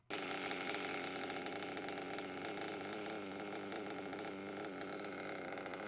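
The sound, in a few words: nitro engine running while being tuned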